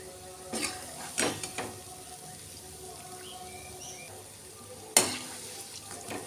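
Palm fritters (taler bora) made with semolina fry in oil with a soft, steady sizzle, broken by a few sharp scraping and clinking strokes.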